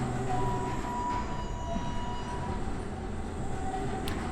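Tram gliding along its rails inside a research facility in Abiotic Factor, a steady close rumble of wheels and car noise with a faint whine and brief high squeal near the end, no voices.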